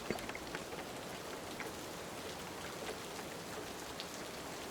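Steady rain falls on a surface, a soft continuous patter of many drops with no other sounds, heard at a low level throughout.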